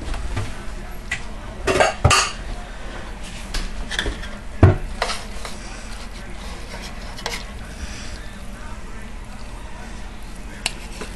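Utensils scraping and clinking against a pot and plate as a shrimp dish in light broth is served, a few sharp metallic knocks amid soft stirring and a faint simmer in the background.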